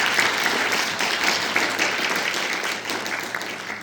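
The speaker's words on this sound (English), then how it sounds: "round of applause for that" Sustained audience applause after a high school concert band performance, a dense, steady wash of many hands clapping that fills the hall throughout without letting up.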